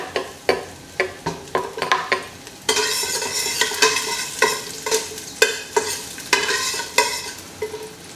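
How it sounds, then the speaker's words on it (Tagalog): Garlic sautés in olive oil in a pan for pinakbet. Close, crackling sizzle runs under rhythmic spatula scrapes and clanks, faster at first and then in steady strokes, with no one talking. "So, gisa natin ang bawang."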